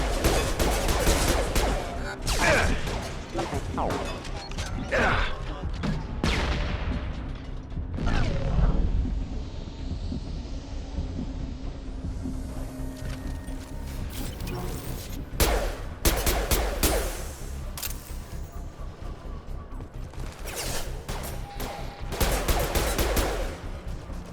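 Sci-fi combat in Mass Effect 2 brings bursts of gunfire mixed with mechanical creaks and clanks, sharp shots flaring several times over a dense, continuous backdrop of game noise and effects.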